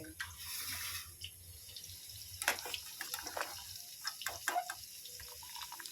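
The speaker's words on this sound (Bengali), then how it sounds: "একদমই জল ঝরিয়ে ছেঁকে নেব" Water drains and splashes as boiled papaya pieces are strained into a pot, a steady close pouring with trickles and drips.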